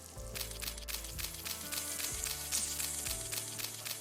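Pieces of liver sizzle and spatter in a hot frying pan, a steady crackling hiss broken by a few soft thumps, with no talking.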